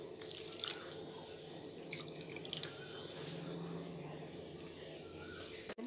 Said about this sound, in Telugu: 4-5 సార్లు దీన్ని నీటిలో వేసి బాగా కడుక్కుని